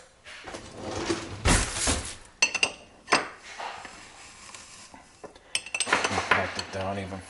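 A metal spoon presses kale leaves down into a jar, with several scraping, clinking knocks against the glass and crunching pushes in uneven bursts, fairly close and with no voices.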